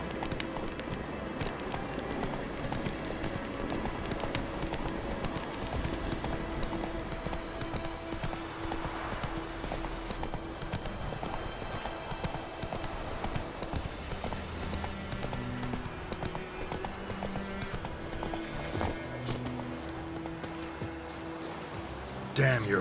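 Horse hooves clip-clopping at a steady run in The Witcher 3 video game, continuous and fairly close, with game music and a spoken voice over the hoofbeats.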